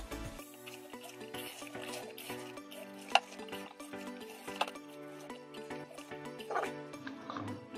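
A spoon stirs potato stuffing with chaat masala and a little salt, giving soft, steady scraping and mixing sounds with a few brief clicks, faint under continuous background music.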